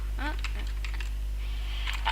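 Quick, light keystrokes on a computer keyboard tap out a short irregular burst near the microphone over a steady background hum.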